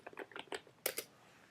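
A few quick clicks of computer keyboard keys as a root password is typed, soft and close, a short burst of keystrokes followed by two firmer taps.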